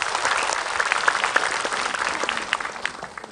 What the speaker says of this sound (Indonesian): Tepuk tangan buat Ustadz Syam.